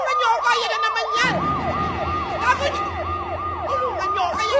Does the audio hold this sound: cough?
no